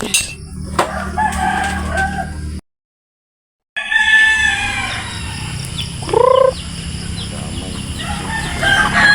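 Roosters crow and chickens cluck in a busy farmyard, with one loud nearby crow standing out after a brief gap of silence.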